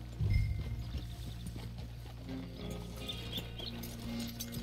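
Horse hooves clip-clop in Red Dead Redemption 2 as a rider steers toward a hitching post by the stables, a soft, uneven plodding at moderate distance under a steady low background hum.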